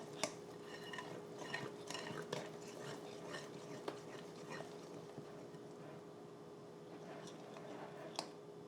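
A spoon scrapes and knocks against a bowl while batter for a light homemade dinner is stirred, with soft repeated clinks and squelches and a faint hum beneath.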